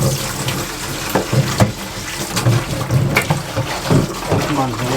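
Water pours from a spring tap into containers at a winter campsite, a steady splashing flow with intermittent clunks and knocks, people's voices faint in the background.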